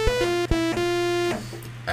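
A Waves Element synthesizer patch after a full reset, a plain bright sustained tone with a few quick pitch steps and short gaps, close and alone with no talk.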